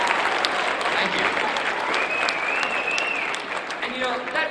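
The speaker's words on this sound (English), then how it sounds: "that feels really cool if you guys applaud for that" An audience claps in a dense, sustained burst of applause filling the room, with a few cheers mixed in and a speaker's voice starting near the end.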